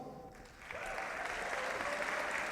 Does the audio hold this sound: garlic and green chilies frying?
no